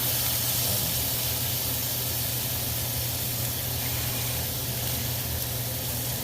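Several pork chops sizzle steadily in a hot pan for a creamy mushroom pork chop dish, a loud, continuous hiss with no talking over it.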